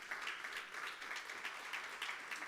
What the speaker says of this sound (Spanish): Eso merece un aplauso en este lugar.